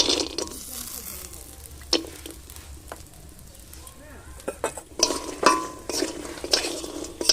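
Homemade lentil bori frying in a pan, a soft steady sizzle with intermittent clinks and scrapes of a utensil stirring against the pan, close and moderately loud, with louder clatter toward the end.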